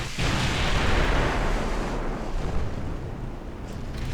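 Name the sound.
warship turret gunfire in Ultimate Admiral Dreadnoughts video game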